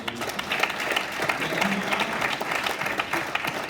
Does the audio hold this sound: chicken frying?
no